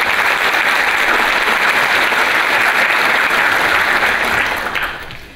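Audience applause at a sponsor panel session, loud sustained clapping from a crowd that holds steady then fades out near the end.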